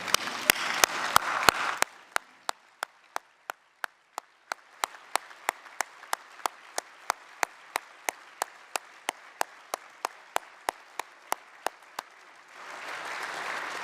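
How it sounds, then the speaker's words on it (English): A standing ovation for postmasters at the GMB union Congress: a dense burst of crowd applause opens, then thins into steady rhythmic clapping in unison, before a full wash of applause swells again at the end. "join me in a round of applause to the postmasters who have been treated appallingly by successive governments"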